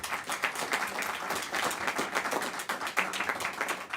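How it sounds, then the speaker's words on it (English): Audience applause at a Senate Democrats' health care event, a crowd clapping with distinct individual claps audible in an uneven, lively patter, moderately loud and without talk. "Let's have a round of applause for them."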